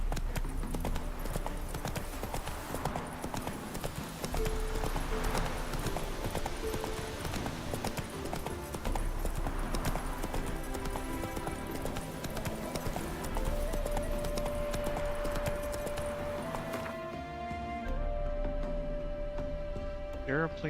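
In The Witcher 3, the horse Roach gallops with steady, rapid clip-clopping hooves over game music and ambience, and a whinny comes near the end while a voice talks briefly.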